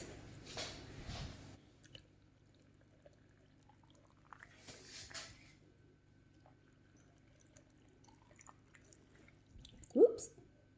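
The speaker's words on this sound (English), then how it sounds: "now let's put some water in it" Water pours into a canning jar for a southern-style home canning meal, a brief splashing burst near the start and another around mid-clip, with quiet kitchen stretches and a short sharp knock near the end.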